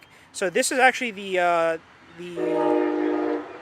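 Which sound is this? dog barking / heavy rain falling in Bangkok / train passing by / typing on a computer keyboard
train passing by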